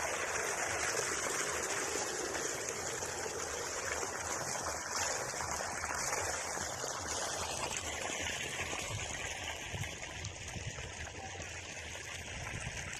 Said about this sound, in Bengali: জমিতে মোটর দিয়ে জমিতে জল দিতে এসছি।